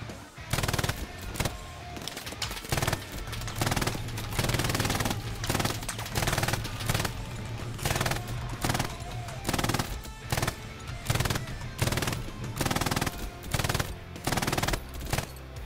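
Machine gun fire in the World War II shooter Hell Let Loose, long rapid bursts of loud, dense gunshots with brief pauses between strings, heavy and continuous.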